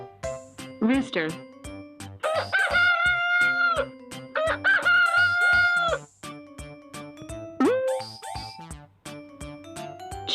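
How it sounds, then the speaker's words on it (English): A rooster crows in a long, drawn-out call, repeated several times with short gaps, loud and close, alongside other barnyard animal calls. "Rooster."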